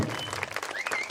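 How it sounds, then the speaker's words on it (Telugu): Loud applause from an audience at a live stage event, a steady wash of many hands clapping over about a second, with cheering or a whistle-like tone rising near the end. "గట్టిగా చప్పట్లు"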